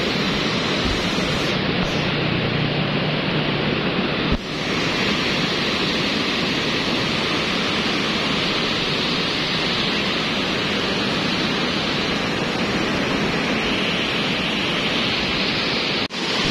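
A Semeru lahar-swollen river rushes past in a continuous, loud, dense roar of turbulent floodwater that stays steady throughout, with no voices present.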